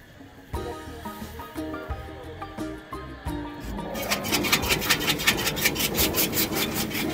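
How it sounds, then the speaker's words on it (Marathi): A fodder chaff-cutting machine, all iron, runs at an agricultural exhibition in Latur. It starts midway, cutting with fast, rhythmic rasping strokes that follow tonal music, and it dominates up close. "कडबा मशीन कट करायचं, चारा कट करायची मशीन."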